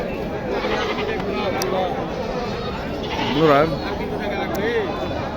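A mother goat and two kids bleat at Kirtipur goat market in Naogaon, with one clear wavering bleat near the middle and softer cries around it over steady crowd chatter and nearby talk.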